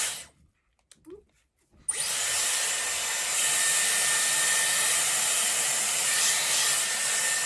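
A Dyson Airwrap hair styler with a round brush attachment blows on medium heat, starting abruptly after a few faint handling noises and then roaring as a steady, close airflow hiss.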